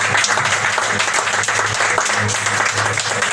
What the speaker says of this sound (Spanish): Apláudale fuerte